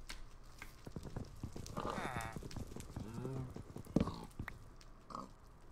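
Pigs grunt and squeal near a pen in a village in a video game, with snorts and footfall-like thuds in between, under faint talk.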